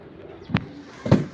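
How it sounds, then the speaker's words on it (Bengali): Club racer pigeons give two short, soft coos about half a second apart, faint against a quiet background. "কবুতর অলরেডি 40 পিস ক্লাবের রেসার কবুতর কালেক্ট করলাম"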